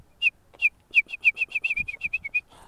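A wrentit sings its bouncing ping-pong song on a Southern California hiking trail near Black Mountain: about a dozen and a half clear, sharp chirps that start spaced apart and then quicken into an even run, bright and fairly close with no voices.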